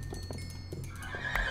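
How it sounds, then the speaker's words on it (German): A horse in the video game Minecraft gives a short neigh with a few hoofsteps, brief and moderately close, ending in a bright whinny. "Kann man zum Beispiel gucken, hier hat man ein Pferd."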